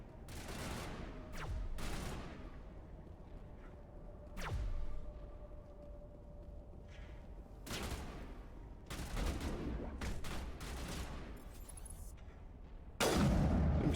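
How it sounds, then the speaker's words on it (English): Sniper fire in the video game Mass Effect, sharp loud cracks spaced several seconds apart, with rolling echoes and a steady low background hum between shots. "Sniper shooting me."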